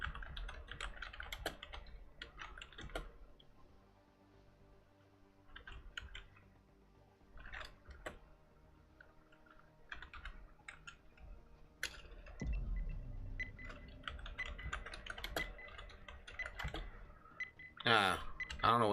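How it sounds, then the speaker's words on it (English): Someone typing on a computer keyboard, bursts of quick clicking keystrokes with pauses between them, fairly close, under faint intermittent background chatter. "I don't know what's going on with my keyboard."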